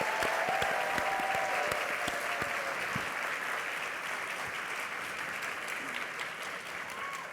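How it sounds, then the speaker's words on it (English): A live studio audience at a laser talk show gives sustained applause, a steady wash of many hands clapping at moderate distance, a few sharper claps early on. "let's give everyone a big round of applause"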